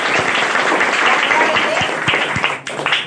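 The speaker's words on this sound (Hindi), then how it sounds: "यदि आपको पंक्ति अच्छा लगेगा तो इसको तालियों से जरूर नवाजिएगा।" An audience applauds during a motivational speech, loud continuous clapping from a crowd that holds steady and then thins out near the end, with a voice briefly audible underneath.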